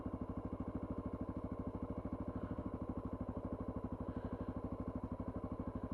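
A Honda XR650L motorcycle engine idles slightly high with the side case fitted, a steady rapid thumping pulse, close and even throughout.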